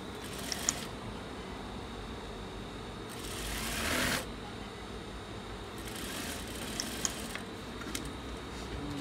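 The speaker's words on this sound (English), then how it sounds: "Now sew on top again." A sewing machine topstitches a seam on cargo combat shorts, heard as a steady low mechanical hum with a brief louder burst in the middle and a few faint ticks.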